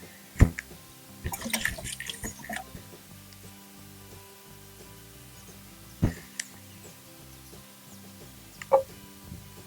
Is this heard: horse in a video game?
no